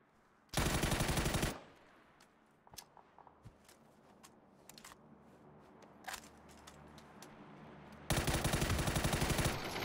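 Automatic gunfire in the game PUBG comes in two loud sustained bursts at the start and end, with quieter in-game movement and footsteps between them.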